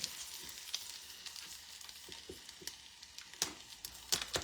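Butter sizzling in a pan while a steak dinner cooks, a soft steady hiss with scattered crackles and a few sharper pops, close and fairly quiet.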